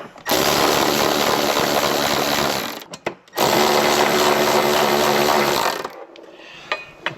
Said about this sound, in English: Take a couple more factory bolts. Cinch them in a little bit.